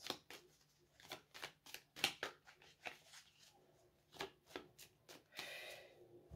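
Playing cards being shuffled and drawn by hand, a series of soft, crisp riffles and flicks close to the microphone, quiet and uneven in rhythm, with no voice over them.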